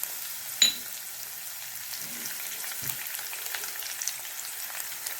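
Cumin and shahjeera fry in oil for jeera rice, a soft continuous sizzle with a sharp click early and a few faint stirring taps, quiet and close with no one speaking.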